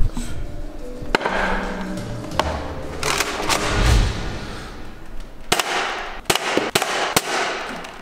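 Foam darts from a Nerf gun strike a suction cup stuck in an office, giving several sharp, close snapping impacts spaced a second or so apart over a steady background rumble.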